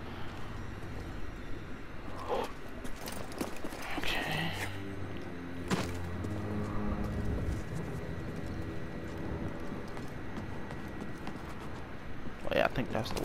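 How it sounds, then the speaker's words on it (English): Heavy stomping footsteps in the game Star Wars Jedi Fallen Order, a steady clopping tread that thuds along beneath someone talking, with a few louder impacts. "The hell is that stomping around noise?"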